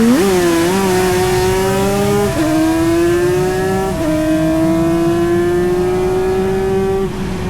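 Racing motorcycle engine, a Manx Norton or reverse cylinder Yamaha TZ, out on the Snetterton track for a race, loud and close, revving steadily and shifting up through gears in rising, stepped pitches.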